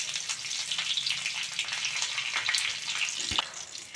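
Mustard seeds and curry leaves sizzle and crackle in hot oil, a busy close-up frying hiss with scattered pops.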